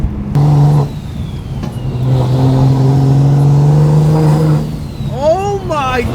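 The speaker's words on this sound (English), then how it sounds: "The turbo does sound good though." Turbocharged twin-turbo Audi R8 engine revving and pulling hard under acceleration on open roads, a loud sustained drone rising in pitch, with a voice talking over the end.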